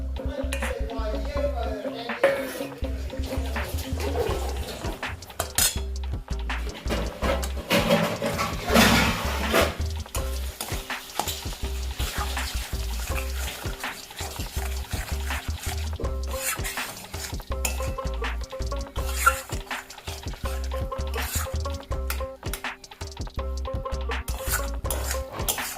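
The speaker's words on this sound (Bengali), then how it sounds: "আমরা যে মাংসের কুচিগুলো করে রেখেছিলাম সেই মাংসের কুচিগুলোকে আমরা এর মধ্যে এখন ঢেলে দিচ্ছি।" Chopped meat pieces tipped into a cooking pot for home-style haleem, giving scraping, stirring and clinking of utensils against the pot amid a low sizzle, with scattered clatter and no voices.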